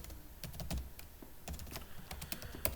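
Rapid typing on a computer keyboard while coding a React app, with quick irregular bursts of key clicks and clacks heard close and clear, with no talk.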